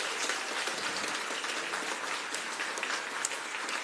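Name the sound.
applause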